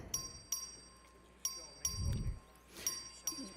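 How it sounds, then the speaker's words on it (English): A voting bell in the Texas legislature chamber rings in a series of short, bright dings at uneven intervals, fairly faint and distant, with a brief low murmur in the room between strikes. "The clerk will ring the bell."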